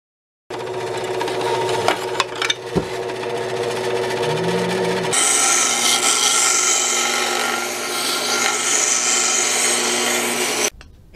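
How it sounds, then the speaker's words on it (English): A belt sander works a carbon fiber part with a close, steady abrasive rasp and motor hum, a few sharp knocks early, then a brighter, louder grinding stretch before cutting off; no one speaks. "that belt sander can be a dangerous tool"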